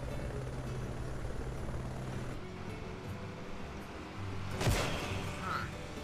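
Helicopter in a racing video game, a steady whirring engine drone under game sound effects, with one louder swoosh near the end.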